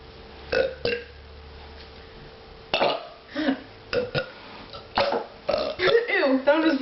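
Loud burps after drinking from a can during a burping contest, several separate belches of varying length scattered through the stretch, mixed with voices talking and laughing nearby.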